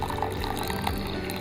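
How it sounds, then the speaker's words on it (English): Hot water poured from a kettle into teacups to cool it before brewing tea, a steady close liquid pour with faint splashing and no talk. "we're gonna cool down the water a little bit by pouring it in the cups"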